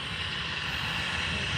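An airliner at Aberdeen Airport gives off a steady, continuous engine roar and whine at moderate distance, holding level without a break and with no voices.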